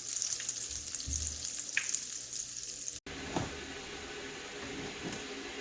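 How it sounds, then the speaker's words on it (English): Steady broadband sizzle of akara, bean cakes, frying in hot oil, continuous and close, with a brief cut midway and a few soft clinks. "see if the oil is well hot before she can start frying the akara"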